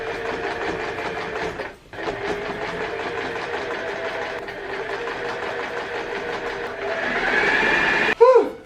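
A sewing machine runs continuously while stitching a bucket hat, a steady close whirring hum with a brief pause, then rising slightly in pace before stopping with a final clunk.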